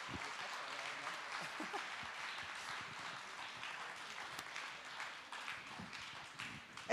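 Steady applause from an audience at a Christmas ball and annual awards evening, a dense continuous patter of clapping lasting throughout at even loudness, with faint voices mixed underneath.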